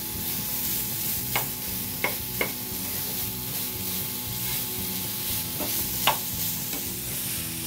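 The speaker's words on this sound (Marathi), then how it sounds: "गूळ आपला मेल्ट होईपर्यंत परतवत राहायचं आहे" Grated coconut and jaggery being stirred together in a pan over a low flame, with a soft continuous scraping hiss and a few sharper spoon clinks, close and alone without talk.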